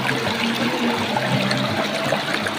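Water runs down from the hills at the Kakochang waterfall in Assam, a steady, moderately quiet rushing and trickling flow with no speech.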